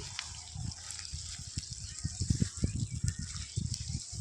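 Water and small fish being poured into a mosquito net while netting puti fish, heard as a steady close splashing gush with irregular low thumps and sloshes throughout.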